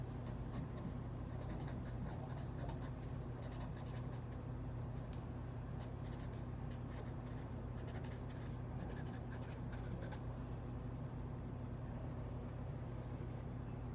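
A pen scratches steadily across paper while notes are written out for a greatest common factor lesson, a faint, continuous rasp over a low background hum.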